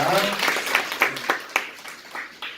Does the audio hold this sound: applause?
yes